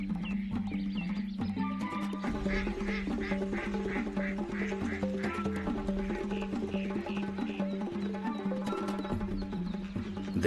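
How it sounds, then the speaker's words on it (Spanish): Ducks on a wetland lagoon, many birds quacking continuously in overlapping rhythmic calls, a dense and steady flock chorus with no talking. "Los patos son las aves más representativas y abundantes de los humedales."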